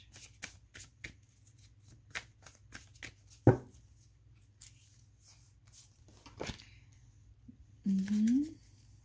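Tarot cards riffle and shuffle in a string of light, crisp snaps and slides close by, with a sharper slap near the middle as some cards drop out of the deck, and a brief low hum near the end.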